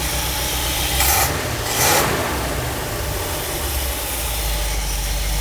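A Buick 425 Nailhead V8 idles at low RPM, a steady close rumbling drone with a couple of brief louder swells, running alone without voices.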